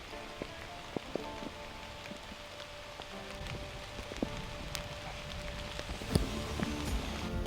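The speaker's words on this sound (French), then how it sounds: "Et alors que la pluie se met à tomber" Light rain patters steadily with scattered drops tapping nearby, quiet and continuous, without talk.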